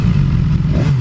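BMW S1000XR motorcycle engine running close and loud in a brief burst, a steady mid-pitched drone with faint crackling pops, no voices.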